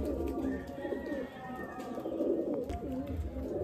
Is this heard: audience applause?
no